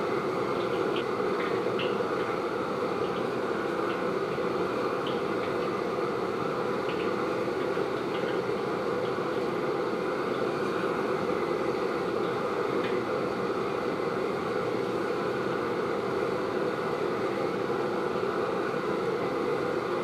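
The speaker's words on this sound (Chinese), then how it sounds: "将准备好的肉泥挤成丸子，依次下入锅中" Meatballs deep-fry in oil heated to about 180 degrees in a wok, giving a continuous, dense sizzling hiss that stays constant and close throughout, with no talk.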